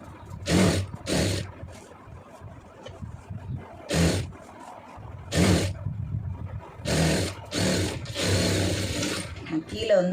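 A sewing machine stitches a boat neck blouse in several loud bursts of a few seconds each, stopping and starting, with speech around them.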